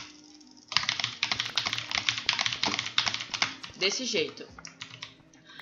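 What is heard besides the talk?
computer keyboard keys being pressed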